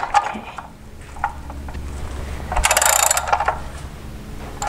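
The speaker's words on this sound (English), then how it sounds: "we're going to get our wrench, our ratchet, put it in the on position, of course. Then go ahead and tighten that up" A ratchet wrench tightens an oil drain plug bolt during a car oil change, giving quick mechanical clicks and a short burst of ratcheting near the middle, fairly close over a low steady hum.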